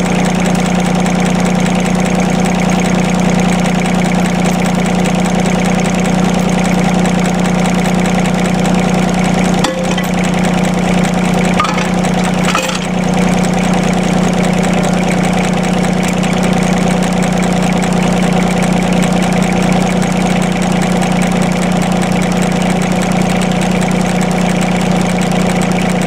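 A John Deere backhoe engine idles steadily and loudly for the whole stretch, with a deep constant drone and a brief dip in the rumble partway through.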